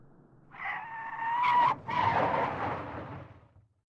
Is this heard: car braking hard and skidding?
yes